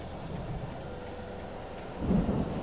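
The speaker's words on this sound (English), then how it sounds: "The storm raged on" Thunderstorm in the Alan Wake video game: steady rain and a low thunder rumble that swells and grows louder near the end, with no voices.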